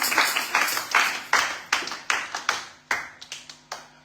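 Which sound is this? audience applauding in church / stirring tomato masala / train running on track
audience applauding in church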